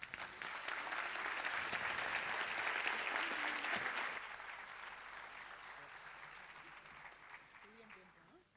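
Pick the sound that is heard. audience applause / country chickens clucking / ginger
audience applause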